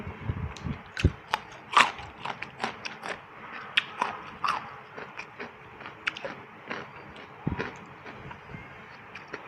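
Close-up crisp crunching and biting of fresh crunchy vegetables such as cucumber, eaten with a spicy Thai pounded salad and rice noodles, in an irregular run of sharp bites and chews with no talking.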